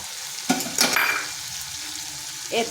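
Poppy seed and melon seed paste hits hot oil in a karahi, a steady frying hiss broken by a few sharp sizzling bursts and a utensil clink near the end.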